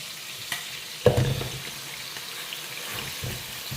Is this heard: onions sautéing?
yes